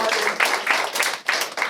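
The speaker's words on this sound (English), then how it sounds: "we should clap for that" Audience clapping at a community school-funding meeting in Ann Arbor, a dense close burst of hand claps in uneven pulses with slight dips, brief and fairly loud.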